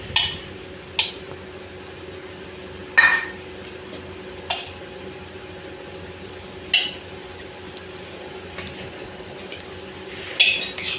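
Curd, mint and coriander are being stirred into biryani masala for a kari palakai biryani, with soft wet squishing and periodic clanks of a spoon against the pot, each a few seconds apart.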